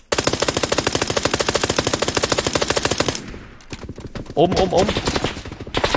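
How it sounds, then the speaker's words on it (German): A Skorpion submachine gun fires in a video game: a loud, continuous rapid-fire burst for about three seconds, then scattered shorter shots and pauses, with a brief spoken word. "Das macht voll Spaß, mit dem Ding zu schießen."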